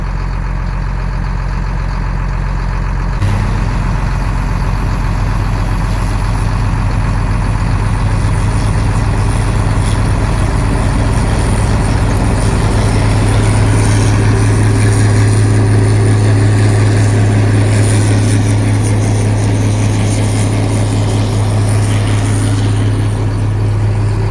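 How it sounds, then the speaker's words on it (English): A snow blower runs close by with a loud, steady low engine drone that rises after a brief quieter start and keeps rumbling continuously throughout, with no voices. "Now we're gonna let the blower go by"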